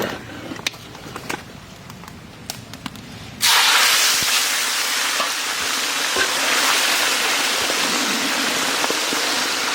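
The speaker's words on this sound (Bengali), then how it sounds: "ঝোলটা সম্পূর্ণ ফুটে গেছে" Fish curry gravy for katla kalia comes to a full boil in a pan, a dense, loud bubbling and sizzling hiss that bursts in suddenly after a quiet stretch of scattered clicks and continues steadily to the end.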